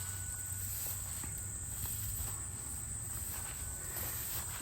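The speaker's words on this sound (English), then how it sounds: "So many crickets in here too." Crickets chirp steadily near a pond, a dense, continuous insect trill at low level with no voices, set against a faint outdoor background.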